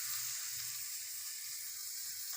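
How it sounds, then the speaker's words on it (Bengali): Sliced onions frying in white oil in a wok for chicken biryani, a steady bright sizzle and hiss heard close and alone throughout. "পেঁয়াজটা নরম হয়ে কতটা কমে গেছে দেখুন এখনো হয়নি আর একটু বাদামি রং করে ভেজে নেব"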